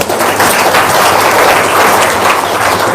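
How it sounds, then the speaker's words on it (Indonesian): An audience breaks into loud, dense applause, many hands clapping continuously at close range, a steady roar of claps with no gaps from start to finish. "Tepuk tangan dong."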